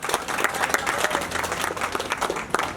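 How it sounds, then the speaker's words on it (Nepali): Audience applause at a Nepali Congress party office opening event, with a crowd clapping steadily in dense, even bursts, close and fairly loud throughout. "उहाँहरू अगाडि आएर सबै साथीहरू ताली बजाएर उहाँलाई स्वागत गरिदिनु होला। ताली बजाउँ।"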